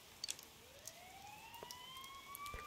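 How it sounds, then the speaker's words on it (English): Rising and falling siren tones from the video game Persona 4 Golden, heard as a steady wail sweeping upward at moderate distance with a few faint clicks near the start, and no talking. "You hear sirens nearby."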